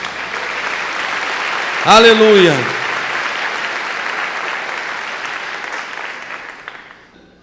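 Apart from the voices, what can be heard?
congregation applauding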